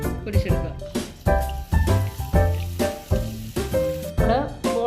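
Irani laddu batter balls frying in hot oil, giving a steady, close sizzle that runs beneath louder background music.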